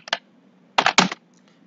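Typing a router configuration command on a computer keyboard: a brief burst of close, crisp keystrokes, one isolated click followed by a quick cluster of clacks, with quiet pauses between.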